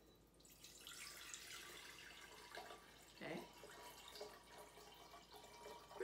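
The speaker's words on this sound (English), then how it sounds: "I'm just going to put some water in my vase." Tap water runs and splashes into a flower vase for roses, a steady broadband rush with a brief deeper gurgle midway, close by; a voice briefly speaks.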